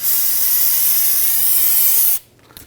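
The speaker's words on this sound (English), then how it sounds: "Go ahead and use your spray solvent" Close, loud hiss of brake cleaner solvent sprayed onto a rear brake caliper of a 2010–2019 Ford Taurus, one steady burst of about two seconds that cuts off sharply, leaving faint rattles.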